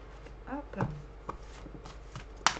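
A tarot card is drawn from the deck with quick, soft, close papery slides and flicks, and a faint sharper snap comes near the end.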